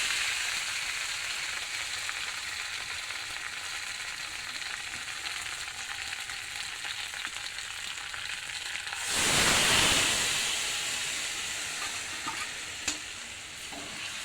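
Water is added to a hot cooking pan. A steady sizzle and frying hiss runs throughout, then a louder surge of sizzling bursts about nine seconds in and slowly settles back.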